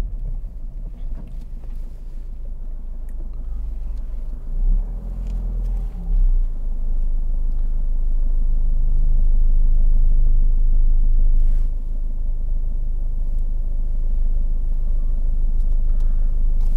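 A 2014 Ford Fiesta 1.5 TDCi Zetec diesel rolling along at about 900 rpm tickover in fifth gear, heard from inside as a steady deep engine rumble with road and wind noise throughout.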